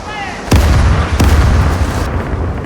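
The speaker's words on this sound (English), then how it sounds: "Overshot with one of the cannons because of the lock-on angle." Two heavy booming cannon shots from a sailing warship in the naval battle game Caribbean Legend, fired about half a second apart against a brig, each with a deep rumbling tail over continuous battle noise.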